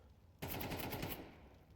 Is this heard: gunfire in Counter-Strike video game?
yes